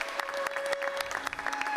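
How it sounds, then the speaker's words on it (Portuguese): A crowd at an ecumenical meeting during the COP26 climate conference breaks into dense, sustained applause after a document is signed. "brota espontaneamente uma salva de palmas"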